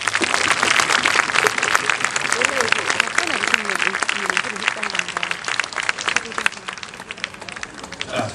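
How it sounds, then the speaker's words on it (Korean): An audience claps and cheers loudly throughout at the opening ceremony of a Korean traditional performing arts theater, dense sustained applause with voices mixed in, steady and close. "여러분 박수로"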